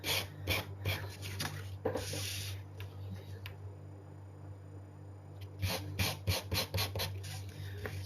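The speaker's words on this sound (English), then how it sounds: "just give it a good quick sand." Edges of a scrapbook mini brag book being sanded by hand, short scratchy rasping strokes in bursts at the start and again near the end, with a quieter stretch between and a steady low hum underneath.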